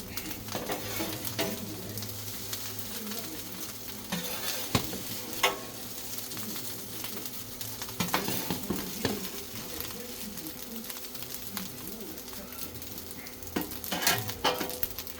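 Chip shop chicken curry fried rice frying on a flat top griddle, a steady low sizzle with scraping and stirring clatter from a metal utensil, a few sharp knocks against the hot plate.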